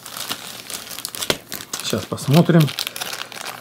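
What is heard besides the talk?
plastic packaging bags crinkling as a parcel is unpacked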